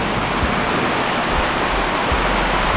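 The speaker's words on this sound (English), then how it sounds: "We're getting driving rain coming in here now." Heavy driving rain pours down steadily over a backyard that has turned to flood, a dense, constant broadband wash with occasional low thumps, close and loud throughout.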